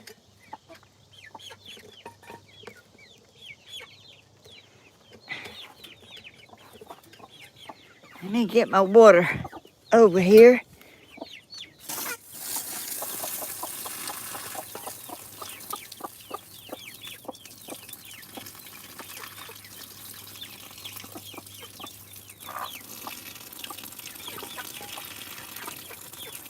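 Hens clucking in a backyard coop at close range, with loud bursts of squawking partway through and steady clucks continuing under a person talking.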